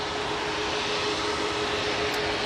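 A Boeing Dreamliner jet lined up for takeoff at Manchester Airport gives off a steady, loud engine roar and broad hiss, with a constant whining tone and no voices.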